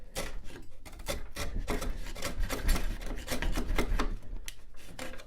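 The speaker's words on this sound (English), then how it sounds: "So I'm going to go put my chisel back in there." A chisel pares pallet wood for a spice rack on a Workmate bench, giving close, repeated rasping scrapes in an uneven rhythm for several seconds with no talking.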